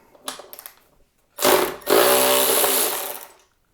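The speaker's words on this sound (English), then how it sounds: "Just a couple of turns of the wrench." Whirring mechanical bursts come close and loud, first a brief faint rattle and then a longer sustained grinding whir, as a wrench turns the bolt on an Echelon Connect EX-5s exercise bike screen mount.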